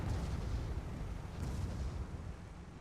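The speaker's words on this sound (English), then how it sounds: "Taking a bit of Leswalk Gatling fire." Gatling gun fire in a team skirmish match of a vehicle combat video game, a dense, continuous rumbling roar of rapid shots that holds steady for several seconds.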